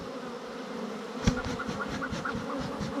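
Agitated honeybees buzz in a dense, steady swarm around a beekeeper in a bee suit, close and continuous, with one sharp thump partway through.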